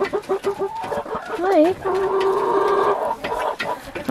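Chickens cluck and warble close by at feeding time, one drawn-out rising call in the middle, with a brief spoken greeting among them.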